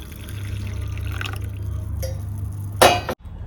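Hot water is poured into a glass with a steady low pour, ending in a bright clink of glass near the end, close and alone without talk.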